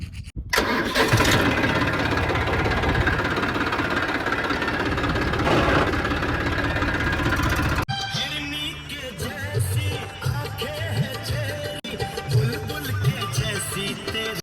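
A tractor engine cranks and catches, then runs loud and close with a gritty mechanical drone for about eight seconds before giving way to a quieter, patchier mix of sound.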